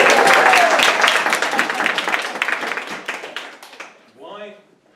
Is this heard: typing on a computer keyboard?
no